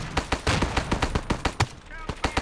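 Rapid gunfire from a free sniper shooter video game, a fast string of sharp shots in quick bursts, some close and loud, with a brief pause near the end.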